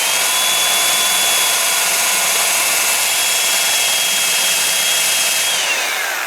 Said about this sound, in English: I use the wire wheel.